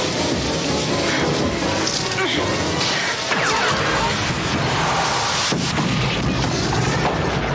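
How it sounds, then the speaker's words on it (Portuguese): Chaotic action sounds with repeated booms, crashes and gunfire-like bursts come through dense noise and talking, from the 1990s cyberpunk horror film Hardware. "tiros"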